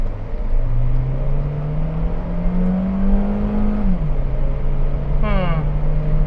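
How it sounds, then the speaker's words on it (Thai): A 2013 Honda Freed 1.5 EL accelerates at full throttle, its engine note climbing steadily, dipping briefly at a gear change and then rising again, loud and close inside the cabin. "ขอเหยียบเต็มๆก่อน การกระชากของรถ"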